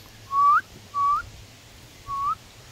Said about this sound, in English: whistling might do the trick